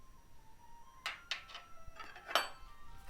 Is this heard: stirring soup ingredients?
yes